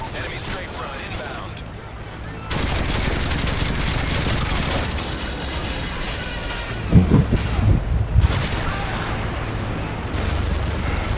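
Rapid assault rifle fire from an M4 in the Modern Warfare 3 video game, dense sustained bursts with louder shots near the middle, under a player's voice.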